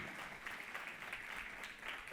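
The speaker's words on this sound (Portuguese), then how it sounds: "vocês querem aplaudir pela vida dos nossos visitantes nessa noite" A church congregation applauds for visitors during an evening service. The clapping is brief, steady and faint, with no voices over it.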